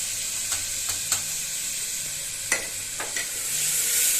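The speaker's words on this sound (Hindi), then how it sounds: "इसको भुना जाएगा, फ्राई कर लिया जाएगा" Homemade spice masala and coriander frying in a pan, with a soft, steady sizzle and a few sharp clinks of a spoon stirring against the metal.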